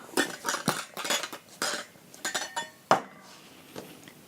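A lid is fitted onto a film developing tank: a quick series of close plastic clatters, clicks and light knocks, ending in one sharper snap and a faint rattle.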